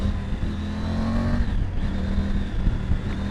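A Triumph Tiger 900 Rally Pro motorcycle accelerates under a rider in a steady, loud engine drone with rising revs and strong low-end pull, heard up close from the bike.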